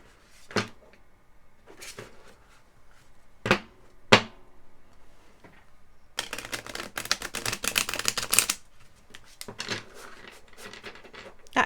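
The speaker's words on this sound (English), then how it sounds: "I'm actually going to shuffle it this way" Tarot cards, a little stiff, being shuffled by hand: a few separate soft riffling bursts, then a longer, denser run of flicking card noise, fairly close and alone.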